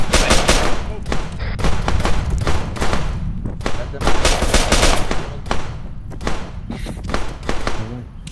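Gunfire erupts in Arma 3 combat, with rapid bursts of automatic rifle fire and heavy thuds crowding together in loud, repeated volleys, and voices calling out between the shots.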